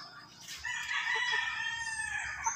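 Yellow-legged hatch gamefowl rooster crowing once in a long, strained call, with faint clucking and farmyard ambience around it.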